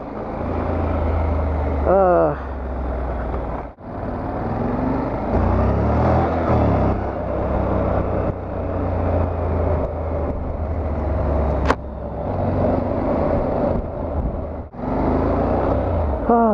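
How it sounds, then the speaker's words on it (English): New York city street traffic is heard from a moving motorcycle: steady road and engine rumble with passing cars, trucks and buses, brief dips and a short horn-like tone, under intermittent talking by the rider. "So much traffic."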